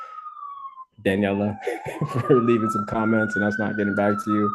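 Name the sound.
siren in the background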